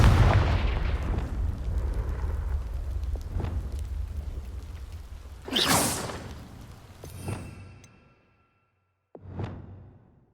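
Confringo blasting spells fire in Hogwarts Legacy, giving three sharp whooshing bursts that each crack into a fading boom against a rumbling background, the last one ringing out after a brief silence.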